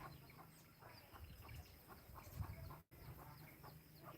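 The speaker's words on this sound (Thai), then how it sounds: "เสียงไก่ฮะ" Hens clucking in short, scattered bursts amid outdoor farmyard background noise, moderately close, with a brief dropout near the end.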